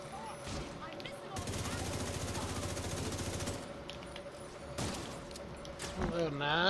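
Rapid automatic gunfire from shooting enemies in The Division 2, a sustained burst of a couple of seconds with scattered single shots before and after, loud and close, with a voice talking over parts of it.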